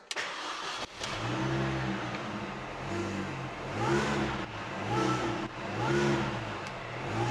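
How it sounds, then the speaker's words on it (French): A Mini JCW sports car sits in neutral, its supercharged engine revving in repeated rising and falling pulses, with whine over a steady low engine tone, loud and close with no talking. "Là, on entend bien le bruit du compresseur, tu vois."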